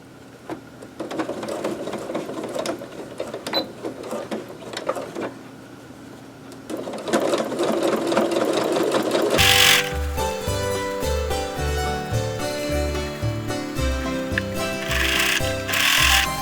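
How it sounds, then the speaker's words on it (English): A sewing machine stitches the seam of an ironing mat cover. Rustling fabric comes first, then the machine runs loud and close in a steady, continuous mechanical rhythm to the end. "make sure you're sewing just to the left of it."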